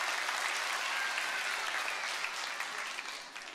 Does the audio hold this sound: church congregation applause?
yes